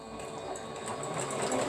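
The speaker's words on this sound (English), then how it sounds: "So I'm lining these right here up and I'm sewing them down." A sewing machine stitching quilt pieces together for a beginner's quilt, running in a continuous steady whir with a rapid, even needle rhythm, close and fairly loud.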